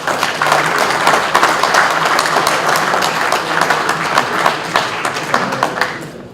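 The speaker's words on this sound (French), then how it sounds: "je vous demande de les applaudir" Loud, close applause from members at a regional committee's general assembly in Saint-Gervasy, France, a dense burst of clapping with individual sharp claps standing out, sustained for about six seconds before fading.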